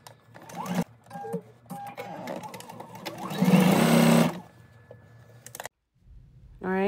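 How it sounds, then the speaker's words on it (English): A sewing machine stitches a seam in bursts of rapid mechanical whirring, loudest near the middle, with brief pauses between runs and a faint voice in the background. "you're going to stitch all the way down until you reach the end"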